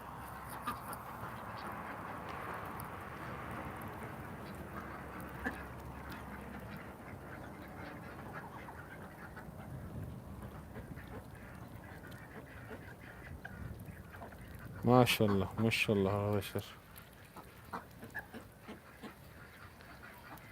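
Farm ducks on a cold day, calling out from hunger or thirst, break into a sudden loud burst of overlapping quacks after a long quiet stretch, with a few scattered calls following and someone briefly speaking.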